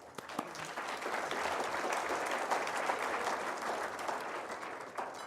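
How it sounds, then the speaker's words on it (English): A crowd at a celebration luncheon applauds steadily, a dense wash of clapping that holds at an even level for several seconds. "Give them a round of applause."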